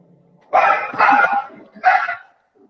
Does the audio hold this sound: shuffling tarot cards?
no